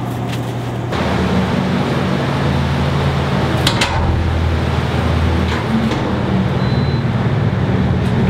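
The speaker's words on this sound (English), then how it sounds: "see the air conditioner unit?" A loud, steady mechanical hum and whoosh of an air conditioner unit cooling a meat locker fills the close, enclosed space, droning on without pause and with no voices.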